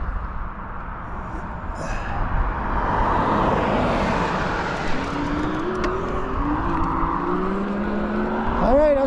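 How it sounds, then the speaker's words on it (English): Road traffic with cars passing beside an e-bike rider on tarmac, a steady roar of engines and tires that swells and recedes, with a few rising whines of passing vehicles. "Alright, we still got traffic."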